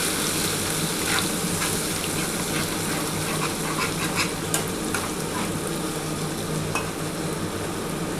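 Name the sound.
frying onion with ginger, garlic and green chili masala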